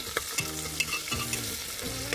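Onions fry in hot mustard oil with bay leaf and cumin while a spoon stirs them in the pan, a steady sizzle broken by repeated scraping strokes, close and clear with no talking.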